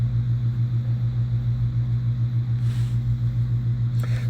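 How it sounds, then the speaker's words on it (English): A faulty cooling fan in a Lenovo C740 laptop spins under load, giving a loud, steady low drone with a constant pitch and no pauses. "You can see, you know, the fan is going to be spinning now"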